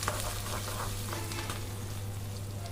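Plenty of chopped onion fries in oil with panch phoron for a dried fish curry, making a steady, moderate sizzle that runs through the clip under a constant low hum, with no talking.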